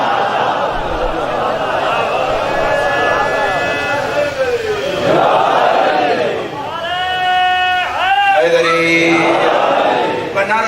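A packed congregation at a Muharram majlis in an imambargah chants religious slogans in loud, massed unison, the voices rising and falling in waves, with a few sharper, drawn-out calls near the end.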